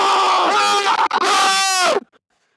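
A crowd at the CSU undie run, an outdoor student event, lets out loud shrill screams for about two seconds before they cut off abruptly into quiet.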